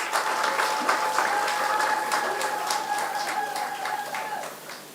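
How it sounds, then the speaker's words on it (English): Steady round of audience applause at the Golden Drum Awards ceremony, loud and even throughout, with a sustained tone running through the clapping before it eases slightly at the end. "Let's give them another round of applause."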